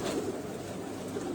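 Many pigeons coo inside a loft as a soft, steady low burble of overlapping birds, close and continuous, with no voices.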